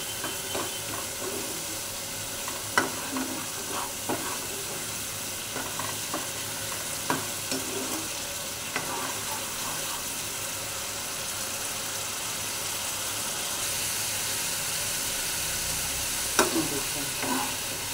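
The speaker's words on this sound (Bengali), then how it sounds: "আর একটু মশলাটা কষিয়ে নেব।" Masala spices fry in a hot pan and are stirred, giving a steady close sizzle broken by occasional scraping clinks of the spoon against the pan, with no talking over it.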